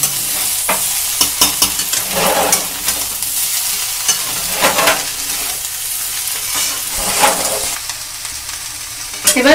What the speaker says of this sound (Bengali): আলুর সঙ্গে ফুলকপিটা ভালো করে মিশিয়ে নিতে হবে।